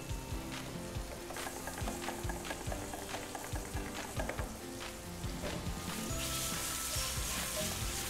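Potatoes and Alaskan keta salmon frying in a pan with butter, a continuous crackling sizzle with scattered pops and stirring scrapes, close and loud, growing denser and hissier toward the end.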